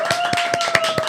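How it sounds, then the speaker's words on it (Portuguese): Quick rhythmic hand claps sound in a podcast studio, about five evenly spaced strikes in a second. A steady tone runs beneath them. "Minha gente, uma salva de palmas!"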